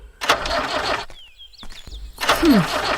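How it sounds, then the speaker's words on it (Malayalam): A jeep engine cranks in short bursts: two loud starter churns separated by a brief lull with faint squeaks, with no sign that the engine catches and runs. "ഒരു ജീപ്പ് സ്റ്റാർട്ട് ചെയ്യാൻ പോലും അറിയില്ല അല്ലേ"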